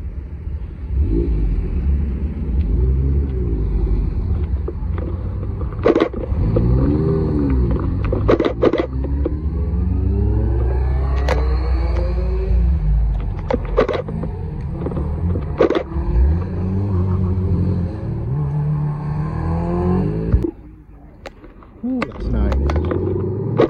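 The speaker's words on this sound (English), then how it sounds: "Corvette C7." A Corvette C7 leaving Oulton Park circuit gives a deep, loud V8 rumble that rises and falls through revs as it pulls away, with crowd chatter and other passing cars around it.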